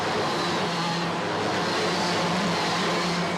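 OKJ-class racing karts in the final of the WSK Champions Cup 2023 at South Garda Karting, a steady dense engine drone from several karts running together, loud and continuous without a break.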